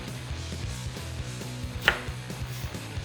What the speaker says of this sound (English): Cut these roughly the same length as the carrot